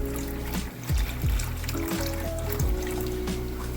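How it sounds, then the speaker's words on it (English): Water poured gently into a plastic bag holding newly arrived tetras, a steady close trickle over a constant low hum of aquarium equipment, continuous for a few seconds. "So I just put a little bit of water in."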